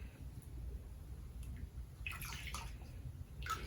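A wig dipped in and out of a tub of dye water, producing soft close splashes and sloshing bursts over a low steady background hum.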